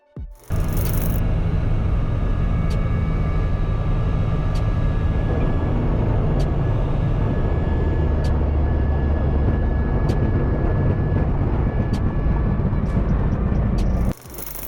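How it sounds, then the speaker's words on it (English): A Super Veloce Risen ultralight aircraft in flight drones steadily for several seconds, a loud continuous engine and propeller roar with a low rumble. Wind buffeting bursts in briefly at the start and end. "A plane that's thrilling at high speed, yet tame and predictable when you need finesse."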